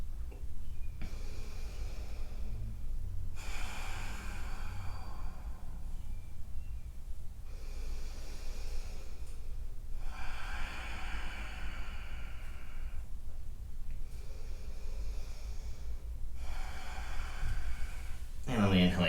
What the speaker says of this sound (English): Three more deep breaths